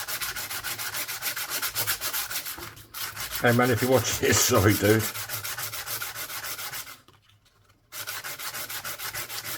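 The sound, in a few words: sandpaper sanding a metal ring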